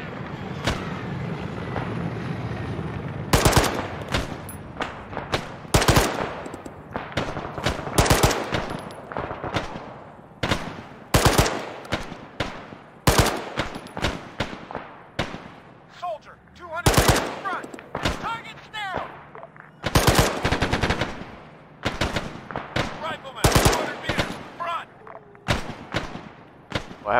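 Rapid bursts of automatic gunfire in a military combat video game, with several magazines emptied; loud, dense volleys and single shots come in irregular clusters throughout, with a low background rumble between them.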